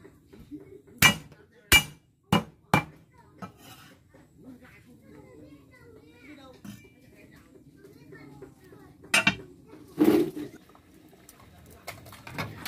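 Ginger root being crushed with several sharp thumping blows in a home kitchen while preparing chicken soup with ginger and white rice wine, a quick burst of four strikes, then two more after a pause.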